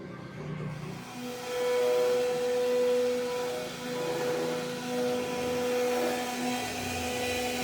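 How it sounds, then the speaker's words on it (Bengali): An engraving machine cutting a design of Allah's name onto a card gives a steady mechanical whine with a sustained motor tone, close and continuous with slight rises and falls, and no voices. "এই মেশিন দিয়ে কিভাবে এই কার্ডের ভিতরে আল্লাহর নাম লেখা হয় এটা আপনাদের দেখানোর চেষ্টা করছি"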